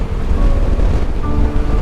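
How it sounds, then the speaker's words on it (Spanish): Strong, steady wind roars across the microphone on a rainy coastal ride, a loud continuous gusty rush with low buffeting and sea-like surf character, no voices. "el viento y el agua me cortan la cara"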